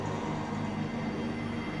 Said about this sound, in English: This automated train is provided for the security and convenience of the Black Mesa Research Facility personnel